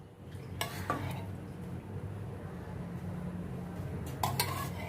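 A metal spoon clinks against a pan while refined oil and vanaspati ghee go in for moong dal barfi, a few sharp taps over a low steady background hum.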